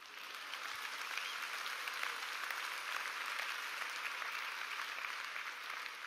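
A church congregation applauds steadily throughout a worship service at a large general assembly, a dense, sustained wash of clapping from a big crowd with no break.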